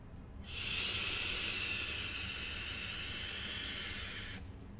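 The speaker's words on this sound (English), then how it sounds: "Let's take it for one more vape." A Sense Blazer Mini sub-ohm tank with its airflow opened takes a single long, steady draw, a bright, airy hiss lasting about four seconds, close and loud, starting and stopping abruptly.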